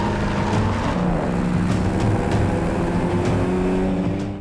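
Older-model cars racing through Gangnam-daero in Seoul during a car chase, engines roaring steadily and loudly with layered revving and passing vehicles, no voices.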